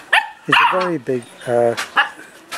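Dogs barking at home in several sharp, yelping bursts with some whimpering cries between them, loud and close, with a voice briefly mixed in.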